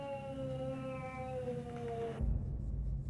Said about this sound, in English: That cat's telling something to F off.